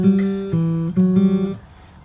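Plucked bass notes on a fingerstyle guitar from a song arrangement ring out as a few clear, low tones one after another. They are picked close up and left to decay into quiet.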